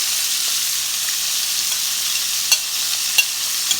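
Lollipop lamb chops sizzle in a hot pan, a steady close frying hiss with a few sharp pops and spits rising out of it.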